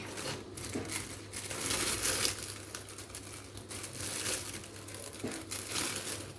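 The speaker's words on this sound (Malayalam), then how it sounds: "ഇതുപോലെ ഒരു കവറ് എടുത്തിട്ട് അത്യാവശ്യം വലിയ കവർ എടുക്കാം" A large plastic cover being handled for storing coriander leaves, with continuous crinkling and crumpling that swells and fades in several bursts throughout, close and fairly loud with no talking.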